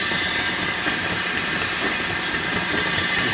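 A trailer-mounted steam engine with a horizontal compressor idles at low RPM, giving a loud, steady hiss with a faint rhythmic chuff underneath, close by and continuous without talk.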